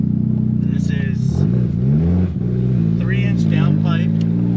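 A Volkswagen Golf Cabrio with a big-turbo 1.8T engine and 3-inch downpipe idles with a deep, throaty exhaust burble and rises in pitch during short revs, heard up close.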